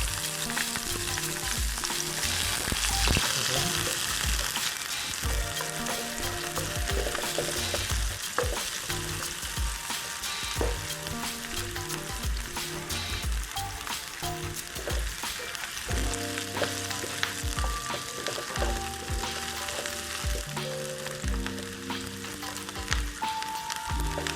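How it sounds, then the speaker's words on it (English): Onions for chicken curry sizzle and crackle steadily in a hot pan, a loud, continuous frying hiss with occasional stirring scrapes and no voices. "now we have to add onions"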